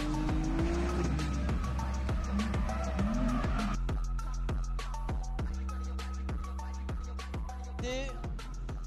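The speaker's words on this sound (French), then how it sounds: "Une A4, Audi S4 même, et top départ pour Jérémy Moll." Audi S4 drift car in a French drift championship round, its engine and squealing tyres heard at a distance over steady crowd and event noise, with a commentator talking throughout.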